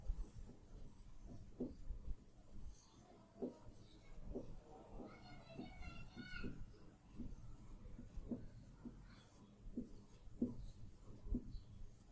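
Faint, close pen strokes writing out a Class 9 matrix maths solution, with soft scratches and small rhythmic taps recurring at a quiet level and no talking.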